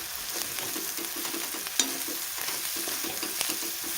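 Masala chilli spice mix being stirred with sliced potato in a hot pan, a continuous sizzle under rhythmic scraping strokes of a spoon, close and fairly loud.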